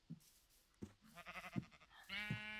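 Sheep in the Minecraft survival game bleat repeatedly, several short wavering calls spaced over a couple of seconds, fairly quiet and with no talking over them.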